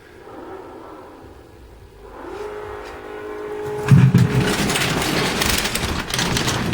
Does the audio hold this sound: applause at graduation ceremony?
no